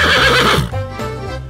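A horse on a farm neighs loudly and close by in a long whinny, then gives a shorter second call, with a low rumble underneath.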